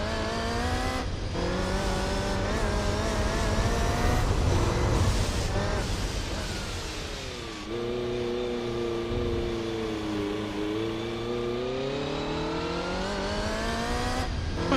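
A loud race car engine from the Gran Turismo 4 video game revs up and down through several gear changes, with a sharp drop in pitch midway before it climbs again, steady and close throughout.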